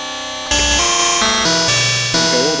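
A loud, buzzy synthesizer tone from a DIY Arduino wavetable synth on a noisy waveform, holding harsh, gritty stepped notes that jump in pitch every half second, with a warbling sweep near the end.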